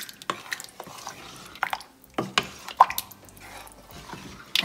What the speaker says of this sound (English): All right, let's give this a stir.